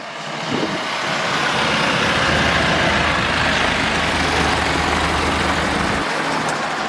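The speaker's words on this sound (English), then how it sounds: "He's just driving off now." A large vehicle's engine rumbles loudly and close as it pulls away, a steady heavy drone holding for several seconds before easing slightly at the end.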